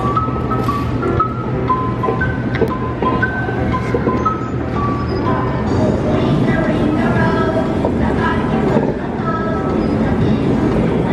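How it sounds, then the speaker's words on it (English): An amusement park ride starts up with a loud, continuous mechanical rumble and whir that builds steadily, with tonal beeping or alarm notes over it and voices in the background. "The ride is about to start."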